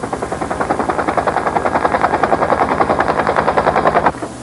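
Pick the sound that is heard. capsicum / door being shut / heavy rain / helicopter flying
helicopter flying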